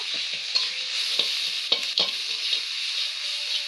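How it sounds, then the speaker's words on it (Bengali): Cumin powder, salt and turmeric powder are sautéed in a pan with a bright, continuous sizzle, punctuated by a few distinct knocks of a spoon as the spices are stirred. "হাফ চামচ জিরের গুঁড়ো চামচ নুন এক চামচ হলুদ গুঁড়ো দিয়ে সব মশলা ভালো করে কষে নেব"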